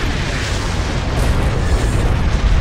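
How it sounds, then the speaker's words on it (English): A dense barrage of weapons fire and explosions in the space battle game Star Wars: Empire at War, a continuous roaring, crackling wash of blasts with no pauses, loud and close. "Firing barrage."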